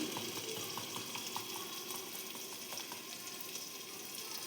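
Fenugreek dropping into onions frying in oil for a cabbage and potato dish, giving a steady, low sizzle with faint crackles and light stirring clinks throughout, no voices.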